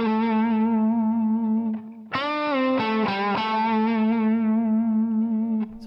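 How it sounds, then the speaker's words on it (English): Distorted electric guitar lick with effects, held notes wavering in vibrato and swooping up and down through string bends, loud and continuous for several seconds, ending on a sustained note. "But then if you add vibrato and some bending to it,"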